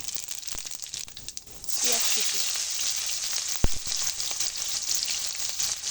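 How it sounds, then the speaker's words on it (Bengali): Whole cumin seeds dropped into hot oil left from frying rohu fish, a sudden loud sizzle that bursts in close up and keeps crackling, with a sharp knock partway through. "এই তেলের মধ্যেই দিয়ে দেবো গোটা জিরা"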